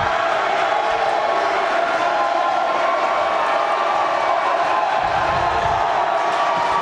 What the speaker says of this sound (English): Crowd coming alive.